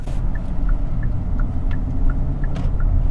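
Soft, evenly spaced ticking of a 2024 Kia Sportage turn signal inside the cabin, about three clicks per second, faint beneath a steady road rumble while driving.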